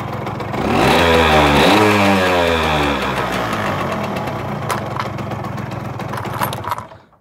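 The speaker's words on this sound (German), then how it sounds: "Auch hier ein Tritt und die gute Herkules läuft," An original 1980s Hercules RX 9 moped engine kick-started and running: a loud two-stroke burst that revs up, drops and settles into a steady buzzing idle, close to the microphone, before cutting out at the end.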